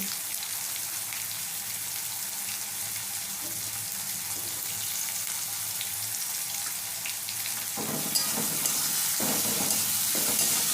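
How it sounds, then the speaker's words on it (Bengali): Salt and turmeric are mixed into onion, tomato and chili in a pan for a kochur loti dish with amudi fish, giving a steady sizzle and a soft, continuous stirring hiss that grows slightly busier toward the end. "নুন আর হলুদটা ভালো করে পেঁয়াজ টমেটো লঙ্কার সাথে ভালো করে মিশিয়ে নিচ্ছে"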